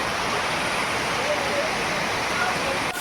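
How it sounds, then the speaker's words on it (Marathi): A large village waterfall roars as a steady, dense rush of falling water, loud and continuous without a break, with people talking faintly underneath. "इकडे पाहू शकताय तुम्ही, फुल मोठा धबधबा आहे."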